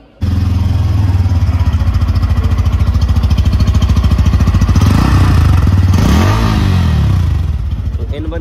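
A Bajaj Pulsar N160 motorcycle idles close by with a steady, loud, throbbing exhaust note that swells briefly in a short rev before settling back.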